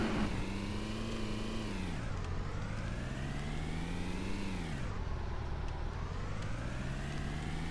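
A car engine in the video game DayZ drones continuously, its pitch rising and falling through repeated acceleration and gear-change sweeps, fairly quiet and steady with no talking.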